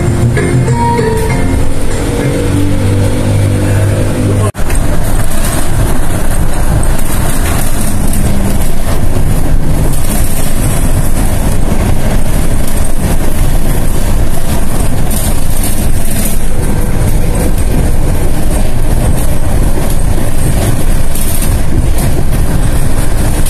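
A light rail train runs near Dukuh Atas in Jakarta, a loud continuous rumble and roar that swells suddenly and stays dense and close throughout.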